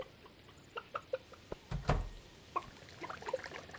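Chicken in Stardew Valley gives a string of short, sharp clucks scattered across the moment, with a louder burst in the middle, fairly close and with no talk.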